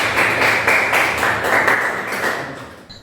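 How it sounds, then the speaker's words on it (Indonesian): A class of students claps together in a classroom, a dense, steady patter of many hands at close range that thins out toward the end. "tepuk tangan untuk kalian semua"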